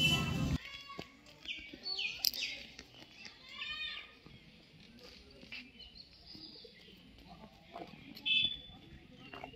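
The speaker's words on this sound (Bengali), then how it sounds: "এই শান্ত পরিবেশে পাখিদের আওয়াজটা জাস্ট শোনো, অসাম লাগছে শুনতে।" Several birds chirp and tweet in short bursts against a quiet outdoor background, some calls close and bright, others fainter and farther off.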